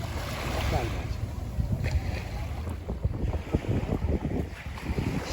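Tour boats approach on the sea near Marmaris, heard as rumbling water and engine noise with heavy wind buffeting the microphone and voices talking faintly nearby.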